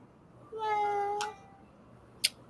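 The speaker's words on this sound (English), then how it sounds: "Cat." A cat meows once, a drawn-out tonal cry lasting under a second, close and fairly clear, followed by a couple of brief faint knocks in a quiet room.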